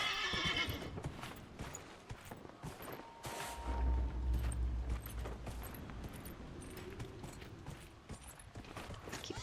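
A horse in Dragon Age: Inquisition on the Storm Coast whinnies and clip-clops along, with hooves and creaking tack over a busy, steady game soundscape.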